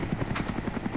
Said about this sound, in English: I just saw the helicopter come down.